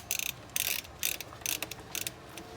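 Ratchet wrench clicking in quick bursts while snugging two nuts down on the plastic MAF sensor cover of a 2005–2015 Toyota Tacoma, close and fairly quiet, with short pauses between strokes.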